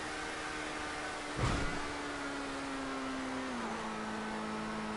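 Car engine in a stunt racing video game holds a steady, moderately loud drone, with a brief burst around the middle and the pitch stepping down as the revs drop, alone without talk.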